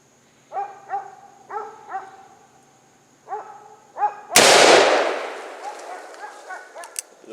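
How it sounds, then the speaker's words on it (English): A Ruger Alaskan .44 revolver fired at a Master Lock gives one huge, booming blast with a long decaying tail, preceded by several rounds of a dog barking nearby. "So I got the Ruger Alaskan 44. We'll put 2 rounds of it on there and see what we get."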